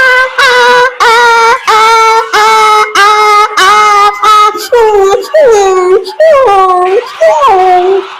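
A man on a comedy stage imitates dogs howling at night, his voice giving a series of loud, drawn-out howls and whimpering yips in a steady rhythm, close and clear.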